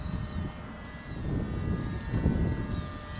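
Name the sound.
Hobbyzone AeroScout S2 RC plane flying at full throttle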